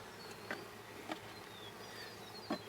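Mountain Grey Caucasian honeybees hum in a steady, low swarm drone during a hive inspection, with individual bees zipping past near and far and a few faint clicks and taps.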